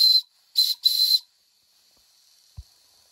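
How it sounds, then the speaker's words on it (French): Steam whistle on a Wilesco D21 toy steam engine gives three sharp, high-pitched blasts, one short and then two longer ones, close and loud. A faint hiss and a soft thump follow. "on va faire un essai avec le sifflet."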